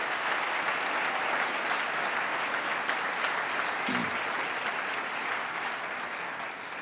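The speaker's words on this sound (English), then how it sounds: "Let's give the Comptroller a big round of applause" An audience at a State of the State address applauds the Comptroller with steady, continuous clapping from a large crowd, even and sustained, with one brief low thump partway through.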